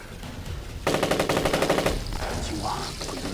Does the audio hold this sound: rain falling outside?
no